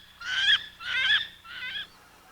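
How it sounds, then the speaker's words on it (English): Three squealing, honk-like calls from a female inland diving duck, evenly spaced and close, each a short nasal burst with a fading third note, alone without background noise. "The female's squealing call is unique."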